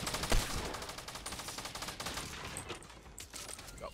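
Hunting rifle shots in Fortnite ring out amid dense game gunfire, with one strong blast early on, then rapid repeated cracks and shots continuing throughout at close range.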